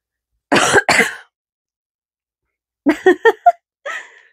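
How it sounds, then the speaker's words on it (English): Two sharp coughs close together, followed after a pause by a burst of shorter coughs and a throat-clearing rasp, close and fairly loud. "Not cutting out that cough."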